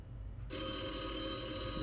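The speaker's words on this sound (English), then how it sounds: "The phone ringing." A telephone bell breaks a near silence and rings on steadily, bright and fairly loud, before anyone answers it.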